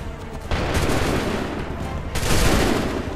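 Musket volleys in Assassin's Creed III, two loud rolling bursts of massed gunfire crackling together with brief gaps between, shouted orders among them.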